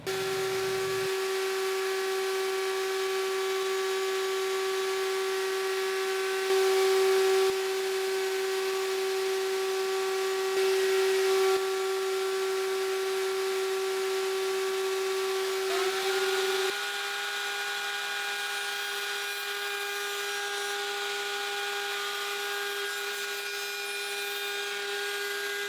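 A small power tool whines steadily while cutting out a pickguard template for a 1950 Gibson ES 300, a close, continuous motor drone with a high whine that shifts pitch partway through and carries on without pause.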